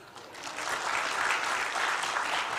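An audience at a stand-up comedy show claps together, a dense wash of applause that builds slightly and holds steady throughout, close and full.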